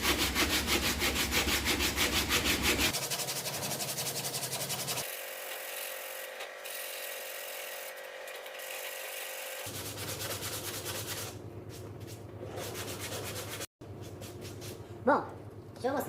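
Coarse 80-grit sandpaper rubbed by hand against a car bumper, a close, harsh scratching in rapid back-and-forth strokes, pausing briefly and then resuming.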